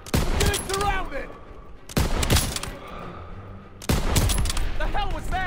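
Bursts of rifle and machine-gun fire crackle in a World War II Call of Duty battle, coming in three dense volleys separated by short gaps, loud and close, with shouted voices mixed into the firing.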